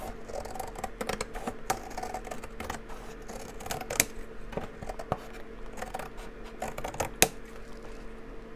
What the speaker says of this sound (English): Let's see, we'll cut off this piece.